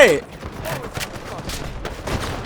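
AK-12 assault rifle fire in the shooter Delta Force comes as rapid repeated shots in short bursts, close and loud, mixed with an excited voice talking over the action.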